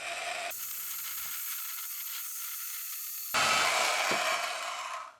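A saw cuts through metal castings for shaper parts in a home workshop, giving a steady gritty rasping buzz that stops briefly, then resumes louder and brighter before fading.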